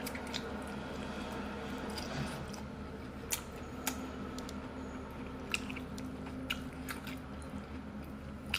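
Close, quiet chewing of crunchy seasoned sea snails, a Dalian conch among them, with soft wet squishes and irregular sharp crunchy clicks scattered over several seconds and no talking.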